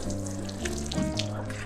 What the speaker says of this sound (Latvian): Lai labāk ieaugtos sēkliņas, es salēju visas vādziņas